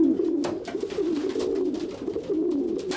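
Homing pigeons coo in a steady, low, rolling murmur, with several birds overlapping close by throughout, joined by soft flutters and scratches and no talking.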